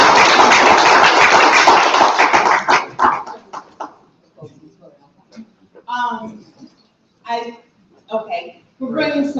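Audience applause at a university State of the Campus gathering for the interim chancellor: a dense, loud burst of clapping lasting a few seconds, then fading as a single voice begins talking.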